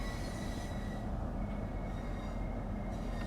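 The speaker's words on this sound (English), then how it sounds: "So we'll go max braking now. Really slow the train down." A Class 395 train slowing under maximum braking, a steady low rumble of wheels and motors with a faint high squeal, heard from inside the cab.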